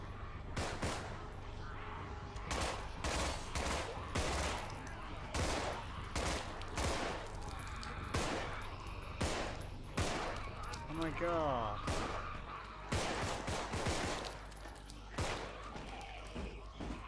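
Rapid bursts of gunfire from the video game 2037 Contagion, repeated volleys and single shots hammering throughout at close range, with voices talking over the shooting.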